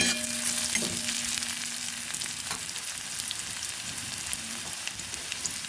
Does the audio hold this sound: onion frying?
yes